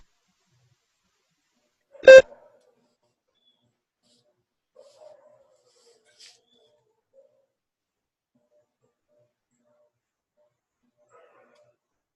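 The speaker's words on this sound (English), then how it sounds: "Begin to prepare your response after the beep." A single short electronic beep from a mock language test recording marks the start of preparation time, sharp and clear, followed by near silence with a few faint small sounds.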